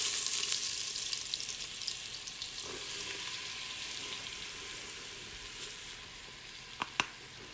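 Butter and flour sizzle in a hot pan with browned butter, a steady bright hiss that holds throughout, ending with a couple of sharp clicks near the close.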